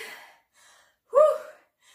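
Heavy, gasping breaths follow a home workout, with soft exhalations and one sharp, loud intake of air close to the microphone, with no talk over them.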